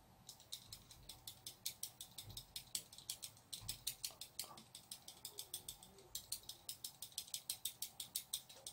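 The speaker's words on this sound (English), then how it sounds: "by taking our tool, we're going to punch holes in this." A tool punches holes in a prop bottle stopper being shaped to look like cork, giving a steady run of close, sharp clicking and ratcheting taps, roughly two or three per second, with no one talking.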